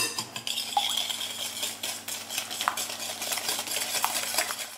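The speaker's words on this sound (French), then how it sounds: "On rajoute le sucre. Et on va venir fouetter l'ensemble." A whisk beats eggs and sugar in a bowl for a chocolate zucchini cake, producing rapid close scraping and light clinking strokes in a steady rhythm, no voices.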